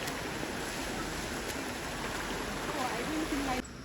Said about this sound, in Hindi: साइड से जो है ना पानी की आवाज़ें आ रही हैं।